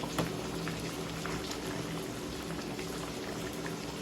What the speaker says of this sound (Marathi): मस्त आता आपला रस्सा उकळते, इकडे शिजत आले.